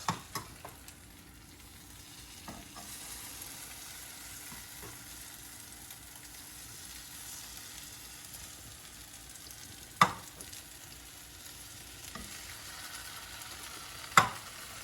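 French toast frying in a pan on a stovetop at medium-high heat, giving a soft, steady sizzle throughout with a few faint utensil clicks and taps, and no talking.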